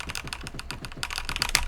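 Fingers type on a computer keyboard close by, a fast steady patter of light key clicks that grows a little busier and louder toward the end, with no voices.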